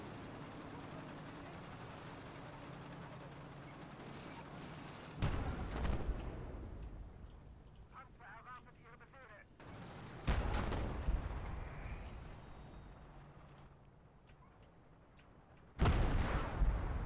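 Mortar fire in the World War II strategy game Call To Arms: Gates Of Hell, three heavy booming impacts spaced several seconds apart, each a sudden loud blast with a rumbling tail over a low background of battle noise.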